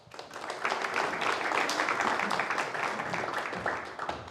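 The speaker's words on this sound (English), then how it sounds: "Give her a round of applause." Congregation applause at a Sunday church service, a steady wash of many hands clapping that swells quickly and holds for about four seconds before easing off slightly.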